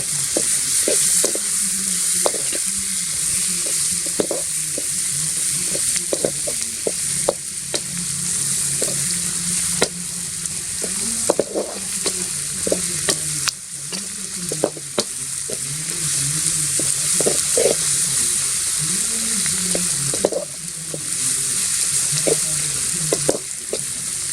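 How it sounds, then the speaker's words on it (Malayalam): Tomato and chili fry in a pan with a steady, bright sizzle, while a spoon scrapes and stirs in frequent irregular strokes, close up with no talking. "തക്കാളി മുളകിലേക്ക് നന്നായിട്ടൊന്ന് ഇളക്കി കൊടുക്കാം."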